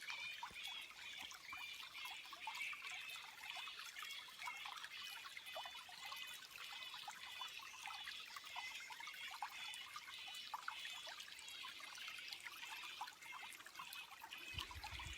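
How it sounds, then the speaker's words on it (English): Water trickles steadily in a meditative setting with bats nearby, a soft continuous burble and patter of small splashes sounding close and gentle, with no talking throughout. "the trickle of the water"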